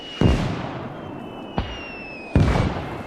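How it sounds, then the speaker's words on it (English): In the World War II shooter Gates of Hell Ostfront, a light mortar barrage lands as three heavy booms spaced about a second apart. A faint whistle of incoming rounds is heard between the impacts. "You can see that you get a light mortar barrage here."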